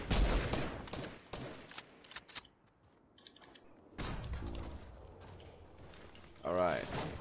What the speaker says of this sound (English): Somebody shooting from somewhere.